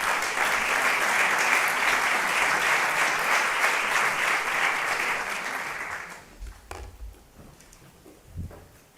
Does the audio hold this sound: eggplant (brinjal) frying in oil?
no